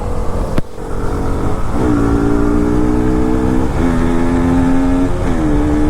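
A new motorbike revving hard during an informal race, its engine note climbing and shifting through several pitch steps, loud and continuous from close by.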